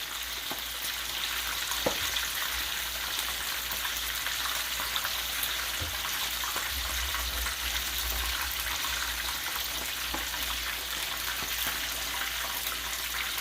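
Pieces of unbreaded chicken frying in a pan over a stovetop flame, giving a steady, dense crackling sizzle that runs unbroken throughout, with a few faint clicks and a low rumble near the middle.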